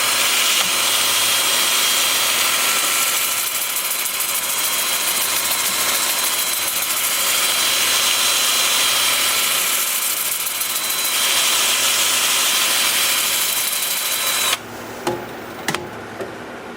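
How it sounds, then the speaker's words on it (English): A 2-inch sanding disc running over a wooden root ball bowl, grits 80 through 400, gives a steady, close, broadband whir for most of the stretch, then cuts off near the end into a few brief knocks. "I'm starting at 80 grit on my 2-inch disc, working up through 400."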